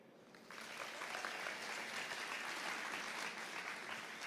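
Audience at a Canadian farm show startup launch pad applauding its founders, steady sustained clapping from a crowd that swells after a brief start and holds strong throughout.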